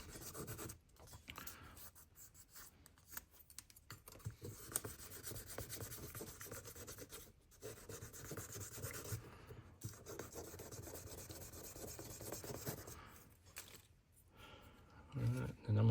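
Fine 5000-grit abrasive rubs steadily across a knife handle scale during restoration of an Imperial fish knife, a continuous soft rasping with brief pauses, close and fairly quiet, with speech present.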